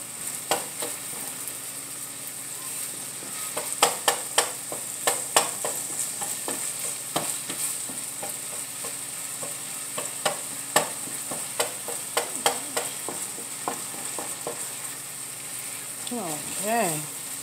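Fresh ground sausage frying in a pan for a potato, egg and cheese scramble, a continuous sizzle broken by frequent sharp scraping and stirring strokes of a utensil, close and fairly loud, with no talk.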